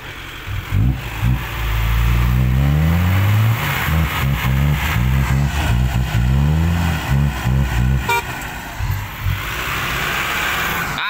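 A Kubota MU 5702 tractor engine works hard in deep mud, revving up and down in repeated surges, loud and near, with a rough mid-pitched growl that never stops.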